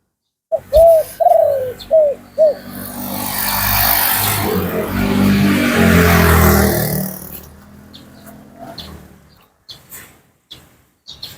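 A trained decoy bird gives several close, repeated cooing calls at the start. A loud rushing noise swells through the middle and fades, then a few more short calls return near the end.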